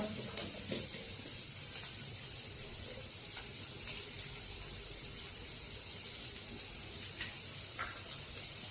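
Onions and green chillies frying in oil for South Indian idli fry, a steady hiss and sizzle with occasional pops and clinks, close and continuous.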